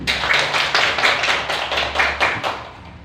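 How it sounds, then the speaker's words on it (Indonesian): A classroom group claps together for group 3's action, a steady run of distinct hand claps at a fairly even rhythm, close and moderately loud, with no talking. "Kita berikan tepuk tangan untuk aksi yang akan dilakukan kelompok 3"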